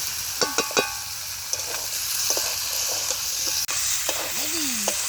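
Fish such as catla, silver carp or tilapia frying in oil in a village home kitchen, a steady broad sizzle throughout with occasional clinks and stirring scrapes, no talk.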